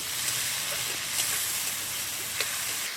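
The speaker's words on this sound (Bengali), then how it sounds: "এখন টমেটোটা নরম হওয়া পর্যন্ত ভালোভাবে নেড়ে নেব" Chopped tomatoes being stirred in a hot pan, a steady loud sizzling hiss that fills the whole stretch, with a few faint scraping ticks from the spoon and no talking.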